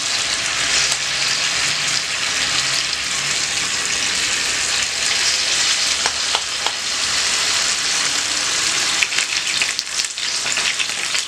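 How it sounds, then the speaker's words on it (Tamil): Mushrooms deep-frying for mushroom 65 in hot oil, a loud continuous hissing sizzle with scattered crackles and bubbling, steady and close for the whole stretch. "இப்போ நல்லா எண்ணெய் காஞ்சிருச்சு. இப்போ நம்ம வந்து ஒன்றா போட்டு நம்ம பொரிச்சுக்கலாம்."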